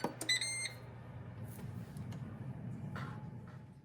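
An air fryer gives a short run of bright electronic beeps as it starts, close and clear over a low steady hum.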